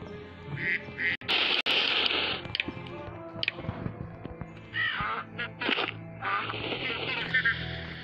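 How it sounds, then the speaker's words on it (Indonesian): Ducks quack repeatedly in the video game Survival Craft 2, harsh honking calls in irregular bursts mixed with other game sounds, while a person talks over them. "Bebek udah kena."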